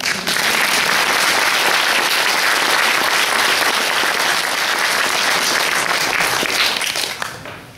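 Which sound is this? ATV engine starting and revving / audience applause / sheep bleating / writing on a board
audience applause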